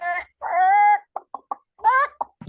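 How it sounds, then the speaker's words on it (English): Chicken clucking in a few short, separate bursts with silent gaps between them, close and fairly clear. "Chicken. Chicken. Chicken. Chicken."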